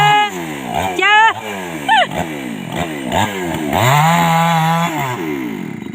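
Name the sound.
chainsaw running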